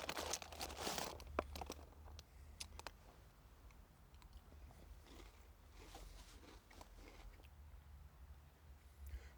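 Quiet, close crunching of Cheez-It cheese crackers being bitten and chewed, with sharp crackly bursts early on that soften into steadier chewing.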